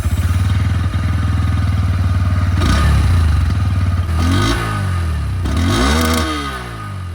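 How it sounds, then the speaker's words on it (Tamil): A Bajaj Pulsar N125 motorcycle idles close by with a steady, throbbing exhaust note, then is revved in several rising and falling bursts, loud and without talk. "இப்போ இந்த பைக்கோட எக்ஸாஸ்ட் நோட்டை கேளுங்க."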